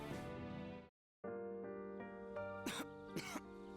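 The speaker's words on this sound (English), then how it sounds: "Oh, he has the cough" A young man coughs harshly a few times in Persona 3 Reload, with music playing under it and a brief silence near the start.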